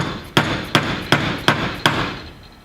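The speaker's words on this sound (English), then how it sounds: "pound that in far enough so we can get the new keeper clip in the groove" A hammer pounds a universal joint into place during a replacement: five sharp metallic strikes, evenly spaced about a third of a second apart, each ringing briefly, loud and close.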